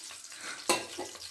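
Chillies and onions for egg fried rice fry and are stirred in hot oil, giving a steady close sizzle broken by one sharp scraping stir partway through.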